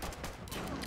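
Rapid gunfire from the mobile game Fallout Shelter, a dense burst of overlapping shots filling the whole moment at steady loudness with no talk over it.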